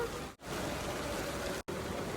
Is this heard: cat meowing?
no